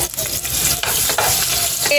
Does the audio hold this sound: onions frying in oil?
yes